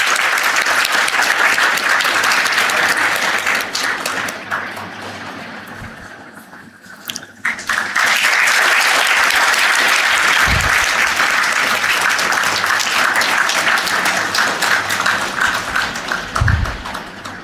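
Loud, sustained crowd applause fills the room, dips briefly midway, then swells again and continues steadily with a few low thumps.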